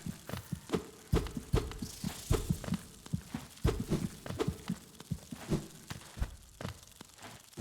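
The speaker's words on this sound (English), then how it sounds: "I hear a heart beating again." Heart beating in Hollow Knight, a muffled thumping pulse in an irregular rhythm, soft but distinct, with low rumbling ambience under it.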